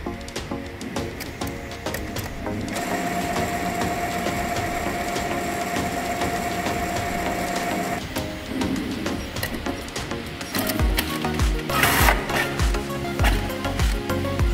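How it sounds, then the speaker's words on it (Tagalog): A Brother DCP-T420W inkjet printer runs a nozzle check pattern after head cleaning, giving a steady mechanical whir with a sustained tone, then louder irregular clacks and thumps of the carriage and paper feed near the end. "pagkatapos nitong mag-heat cleaning ay automatically magpa-print siya ng nozzle check pattern"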